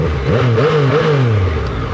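A Yamaha MT-09 Tracer motorcycle engine revs hard, its pitch sweeping up and down in quick blips over a steady mid-range drone, loud and close throughout.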